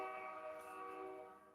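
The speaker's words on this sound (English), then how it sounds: "excuse the train" A train horn sounds as a train passes, a sustained multi-tone blast held steady and fairly faint at a distance before fading away, with no talking.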